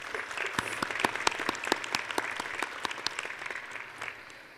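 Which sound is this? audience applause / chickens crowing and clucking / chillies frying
audience applause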